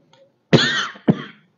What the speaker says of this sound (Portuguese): Perdão aí pela tosse.